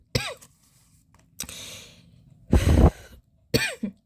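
Four separate bursts of coughing with pauses between them, harsh and close, the third one the loudest and longest, with no talking.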